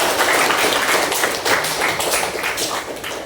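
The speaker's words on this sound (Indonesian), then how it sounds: "Cukup tepuk tangan untuk kita semua." Students in a high school classroom clapping their hands together, a dense and loud burst of applause that stays steady and then fades slightly toward the end.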